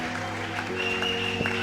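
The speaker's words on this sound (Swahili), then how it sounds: "Ongeza makofi jamani." A church congregation claps during a worship service, producing a soft, fairly distant patter of hands that runs steadily under a sustained musical tone.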